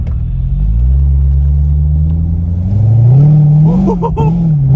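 A 2008 Corvette C6 with an LS3 V8 and Z51 package rumbles loud and close as it pulls onto the street, engine note rising steadily and then swelling into a brief throttle blip near the end.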